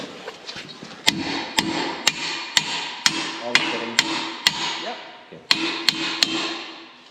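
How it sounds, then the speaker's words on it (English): A hammer strikes metal in a steady series of sharp, ringing taps, about a dozen blows spaced roughly half a second apart, close by. "Let me get a hammer"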